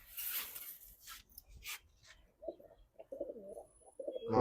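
Pigeons coo in a loft in Hazaribagh, Dhaka, including an old-line female, with soft throaty coos building in the second half after some rustling and hissy noise.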